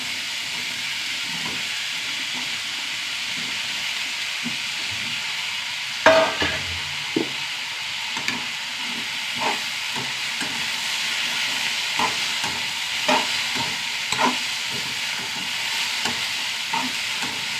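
Okra and onion fry in a pan with a steady, close sizzle and hiss, while a spoon scrapes and stirs in scattered knocks and scuffs from about six seconds on; no one speaks.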